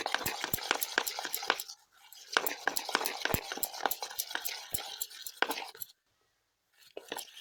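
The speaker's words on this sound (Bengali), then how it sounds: "ইনোটা মেশানোর পর ব্যাটারটা আরেকটু ভালো করে ফেটিয়ে নেব" Biscuit cake batter whisked in a bowl, a fast, steady run of close metallic taps and scrapes, with a short pause midway and a silent stretch near the end.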